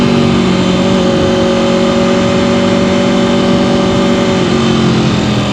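A 2026 Aprilia RSV4 Factory sport bike engine drones loud and close at speed, its steady tones easing slightly lower as it downshifts, with strong wind noise throughout.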